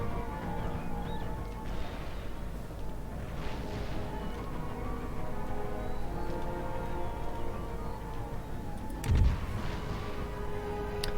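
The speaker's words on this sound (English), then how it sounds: "our artillery is really working on them" Artillery fire in an Empire: Total War battle with Prussian forces at Warsaw: a steady dense rumble of distant cannonade, with one close heavy boom near the end.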